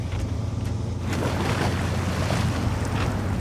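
A truck in the SnowRunner video game ploughs through deep water, a constant heavy wash and churning surge with engine rumble underneath, loud and steady throughout without talk.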